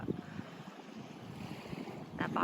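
Sea waves at Driftwood Beach wash in as a low, steady roar, largely buried under heavy wind buffeting the microphone, with no voices.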